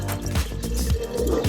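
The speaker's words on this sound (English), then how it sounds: "We're going to pour our water into the jar" Water poured into an empty glass jar for a tornado-in-a-jar demonstration, with a continuous close splashing, gurgling fill and repeated drip-like plops throughout.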